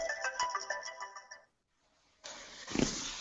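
A phone rings on an incoming call, a bright repeating electronic ringtone that stops abruptly, followed by a short silence and then a rush of noise, close and clear.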